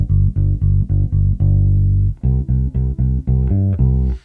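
A bass guitar plays the bassline of a song, the bassist's part: loud, close, clean plucked notes in a steady rhythm, with one note held long before a higher run of repeated notes.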